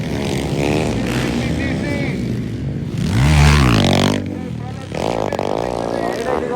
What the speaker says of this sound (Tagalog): may kusog yung motor